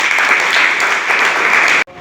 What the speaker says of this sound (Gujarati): તાળી થઈ જાય અમિતભાઈ માટે.